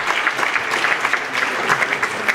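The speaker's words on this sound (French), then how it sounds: "Merci beaucoup de les applaudir." Loud, close applause from a film festival audience in a meeting with guests, a thick, unbroken patter of many clapping hands with no voices on top.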